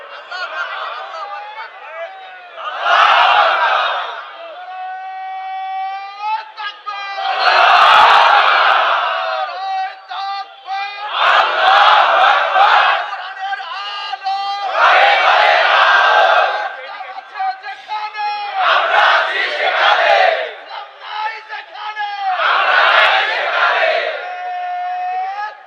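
A large crowd at a late-night Islamic waz gathering shouts slogans in loud call-and-response. A single leading voice alternates with thunderous group replies in about six repeated bursts, separated by brief quieter gaps.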